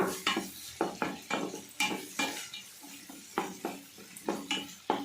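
Chicken masala with turmeric frying in a pan: a series of rhythmic scraping stir strokes over a faint sizzle, each stroke a short close burst at a steady pace.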